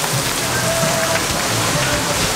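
Heavy tropical rain pours steadily in Bali, a dense, continuous hiss of drops drumming on surfaces close by, loud and unbroken throughout.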